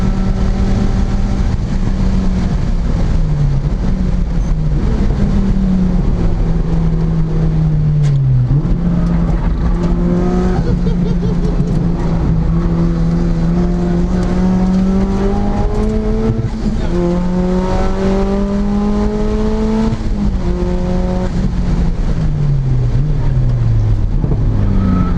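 A Mazda RX-7 FD engine screams from inside the car on a track day, revving hard through repeated gear changes with rising and falling pitch, loud and continuous, no talking.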